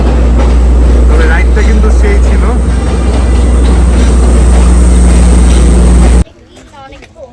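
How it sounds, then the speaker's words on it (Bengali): A train passes close by in Sri Lanka with a loud, continuous rumbling roar for about six seconds before cutting off abruptly, and someone speaks afterward. "এই যে সেই ট্রেন চলে যাচ্ছে"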